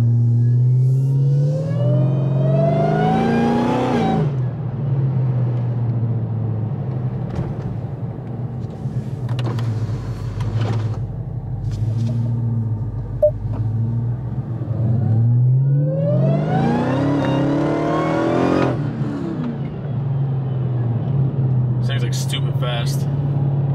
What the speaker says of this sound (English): Supercharger is extremely loud.